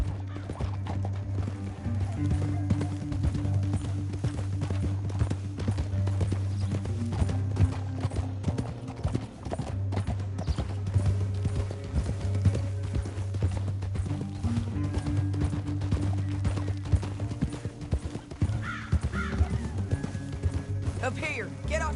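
Horse hooves galloping in the Red Dead Redemption II video game, a steady drumming clip-clop with occasional whinnies, running continuously under game music and spoken dialogue.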